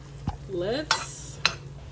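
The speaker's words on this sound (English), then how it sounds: "Let's stir this in, and as the pecans begin to brown" Pecans being stirred in a hot pan as they brown, with a few sharp scrapes and clinks of a utensil against the pan over a soft sizzle, close and brief.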